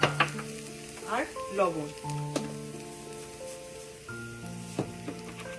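Fried onions sizzle steadily in a pan as ground pepper and salt go in, a continuous close frying hiss with a voice talking over it.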